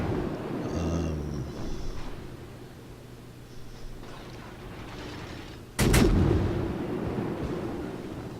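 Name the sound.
naval gunfire in World of Warships video game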